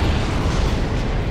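A loud, sustained explosion rumbles in the video game Dark Souls Remastered, a broad roaring blast that fills the whole clip without any talk over it.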